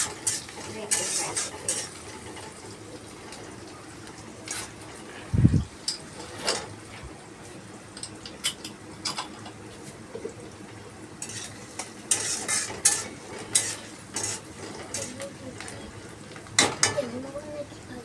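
Pre-boiled dal stirred and frying in a pan, with scattered spoon scrapes and knocks against the pan over a soft continuous sizzle, close and moderate in level.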